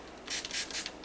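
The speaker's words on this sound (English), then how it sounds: "give that a quick fine mist spray" A fine-mist spray bottle spritzing soap gives three quick hissing puffs in close succession, loud and near, with no talking.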